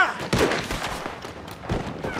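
Gunfire in a Red Dead Redemption 2 shootout, several sharp shots cracking in quick irregular succession amid shouting and the chaos of a firefight.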